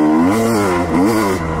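Two-stroke dirt bike engine, a KTM or Honda CR250R, revving hard and close, its pitch sweeping up, dipping and climbing again in quick throttle blips with no talk.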